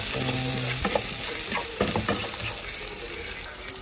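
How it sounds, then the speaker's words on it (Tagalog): German sausage sizzles loudly in a pan as onion and garlic are added, a dense continuous frying hiss with scraping stirs and clinks up close. "Lagyan natin yung sibuyas at saka bawang."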